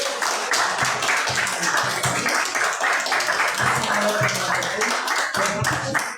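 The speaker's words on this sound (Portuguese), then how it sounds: "Você pode aplaudir o Senhor?" A church congregation claps together during a family worship service, a steady patter of many hands at moderate level, with voices mixed in.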